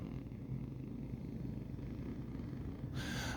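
A person imitates a cat's purr with a low, steady, rumbling vibration held for several seconds, ending in a brief breathy sound.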